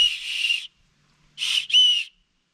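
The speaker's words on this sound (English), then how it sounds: "But it does have a whistle and emergency paracord on it." Emergency whistle on a paracord bracelet, blown in three shrill blasts: one long blast, a pause, then two shorter blasts close together, clear and loud.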